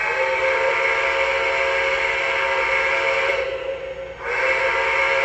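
A loud, steady steam whistle from a Lionel brass hybrid Union Pacific Challenger model train blows continuously, dipping briefly before resuming at full strength, with no voices.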